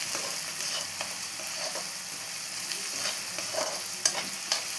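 Onions and green chillies sizzle steadily in a pan for a Karnataka girmit snack, with a spoon scraping and stirring through them in soft intermittent strokes, close and fairly quiet, no voices.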